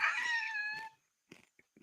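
A dog whimpers in a short, high, whining cry that lasts just under a second, close and fairly loud, followed by a few faint, soft sounds in the quiet after it.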